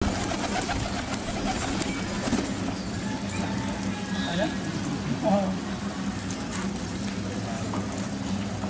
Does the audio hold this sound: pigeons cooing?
yes